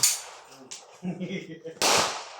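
Two sharp, loud gunshots ring out at a firing range in Peñablanca, Cagayan: one at the start and another nearly two seconds later. Both decay quickly, with people talking briefly between them.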